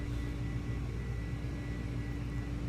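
An Airbus A300 in a flight simulator game gives a steady, low engine drone and cabin hum, constant and fairly soft throughout with no talk.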